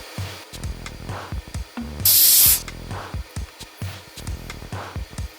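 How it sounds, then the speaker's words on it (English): A single sustained hiss of freezer spray on an iPhone XR circuit board lasting about half a second, bright and close, amid quieter clicks and tapping sounds. "We injected voltage onto the line and applied freezer spray again."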